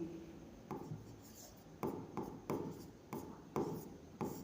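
Chalk or marker writing numbers on a board in a math class, a series of short scratchy strokes and taps in an uneven rhythm, faint and close, with no talking heard.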